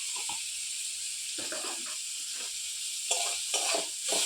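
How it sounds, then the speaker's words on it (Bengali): Leaves sizzling and frying in a pan with salt and turmeric, a steady hiss with short stirring scrapes that come and go, close and moderately loud, with no talking. "দিয়ে এবার এই পাতাটা পুরো লাল লাল করে ভেজে নেব"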